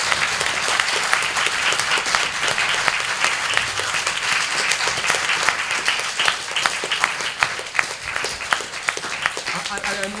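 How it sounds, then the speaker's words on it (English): Sustained audience applause at a reggae festival gathering in Ostróda, dense and steady clapping throughout with a few sharper claps standing out, and a voice faintly audible beneath. "if you could give one big round of applause to Oku Onuora"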